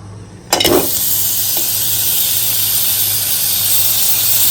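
Melted butter and chocolate hit a hot pan with a sudden loud sizzle, which settles into a steady, bright hiss that carries on without a break.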